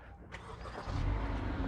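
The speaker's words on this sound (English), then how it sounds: "your car should start like this" A 2016-2017 Honda Accord engine cranks and starts: a brief whir at the outset, then a steady low idle rumble that swells and holds, fairly close, with no talking.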